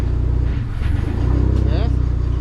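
A Dodge SRT4 engine hums steadily as it moves through third and fourth gear and drops back to third, with a low rhythmic drone, a brief rise in pitch, and someone talking over it.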